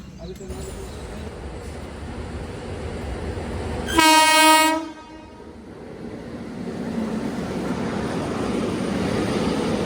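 One loud, brief train horn blast sounds over a steady rail rumble that swells as the train draws nearer to a station in Palghar district.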